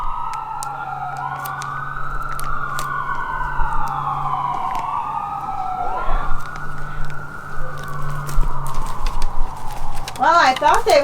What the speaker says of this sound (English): Oh, police sirens. They're chasing somebody.